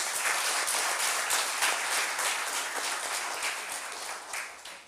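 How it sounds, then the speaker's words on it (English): An audience at an academic felicitation ceremony applauds together, a dense sustained wash of many hands clapping that stays fairly loud and even before tapering slightly at the end. "May I suggest that we give them a big round of applause collectively."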